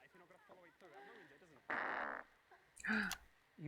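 A voice imitating a fart with the mouth in the video game Not For Broadcast, a short, raspy blurt followed by a second sputtering burst, set among quiet talking.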